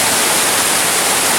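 A Tennessee waterfall pouring onto clay rather than rock, a steady, loud broadband rush of falling water heard close up and unchanging throughout, with no voices.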